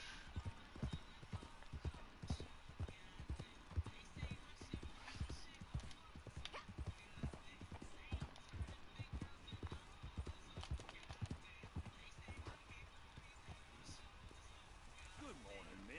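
Horse riding in the video game Red Dead Online, with steady rhythmic hoofbeat clip-clops running throughout, moderately close, under game ambience and occasional voices.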